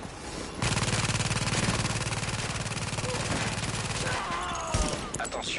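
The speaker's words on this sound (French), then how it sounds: "Marche bien cette tourelle." A deployed automatic turret in The Division fires a long, rapid burst of gunfire lasting several seconds, loud and rhythmic, then stops, followed by a few scattered shots and game noise.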